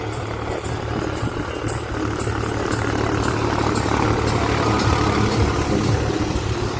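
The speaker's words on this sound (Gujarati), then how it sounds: "ટ્રેક્ટર આવે હો" A tractor engine chugs steadily nearby, a continuous low rumbling drone that holds at a constant level with no talking.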